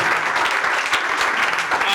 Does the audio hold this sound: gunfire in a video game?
no